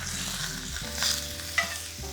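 Bok choy sizzles steadily in hot bacon fat in a pan, with a continuous close frying hiss, a few louder crackles and pops, and a low background hum, no voices.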